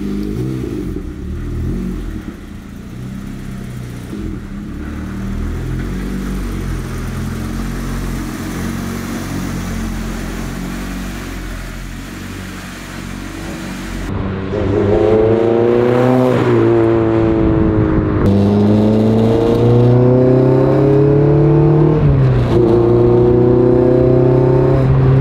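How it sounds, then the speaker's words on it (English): A K24-swapped Mazda Miata roadster idles and cruises steadily, then revs hard through several rising gear pulls, its engine note climbing and dropping between shifts, loud and close with no talk. "Let's get this thing pulled out and let's go drive in traffic."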